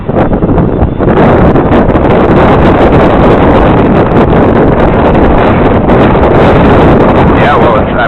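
Loud, steady wind buffeting a microphone outdoors while a DJI 550 hexacopter flies, a dense rumbling roar filling the whole stretch with surging gusts.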